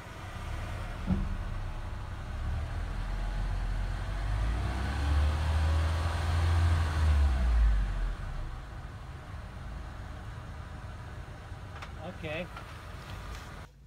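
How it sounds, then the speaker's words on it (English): A car engine, just fitted with a new battery after going dead, idles and then revs once in a rising and falling low growl, with people talking nearby. "Go ahead and rev it once."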